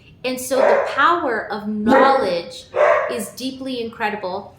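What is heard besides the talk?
puppies barking and playing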